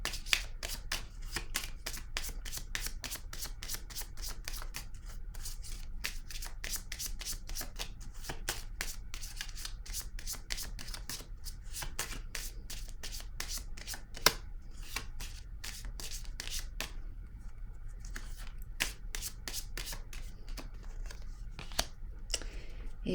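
A deck of cards being shuffled over and over, a fast train of crisp riffling flicks running steadily and fairly close for the whole stretch, with a few sharper snaps standing out along the way.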